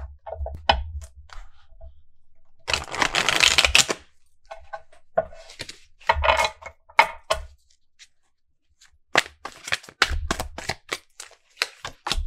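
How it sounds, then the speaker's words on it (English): A deck of tarot cards riffled and shuffled several times, crisp bursts of flapping paper separated by short gaps and light tapping. "I'm going to give it another shuffle."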